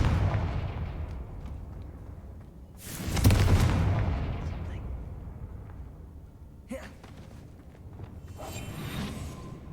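In the video game Hogwarts Legacy, the Confringo blasting spell sets off a loud, booming explosion near the middle, with a rumbling tail and smaller impacts afterward, over a low background game ambience.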